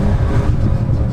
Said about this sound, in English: Feathering that throttle.